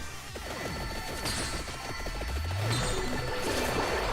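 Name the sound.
character unlock sound in video game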